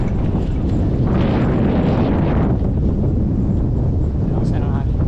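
Strong seaside wind pounds the microphone on a motorcycle ride along a coastal road from Manila to Bicol, a loud continuous low rumble with gusting surges throughout.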